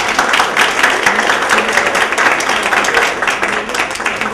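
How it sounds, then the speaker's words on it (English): A crowd in a meeting room claps steadily for several seconds to welcome a school board candidate, lively and fairly close, with sharp individual claps standing out. "Round of applause, please."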